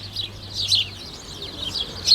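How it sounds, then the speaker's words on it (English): Sparrows chirp steadily in the morning, a dense cluster of quick high tweets from several birds nearby, fairly loud and continuous, alone without speech. "these sparrows are waiting to be fed because they're used to being fed by people in the morning"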